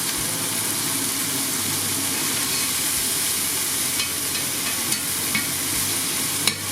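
Chopped vegetables softening in a hot pan for spicy lamb shanks, a steady close sizzle with a few faint stirring clinks, no voices.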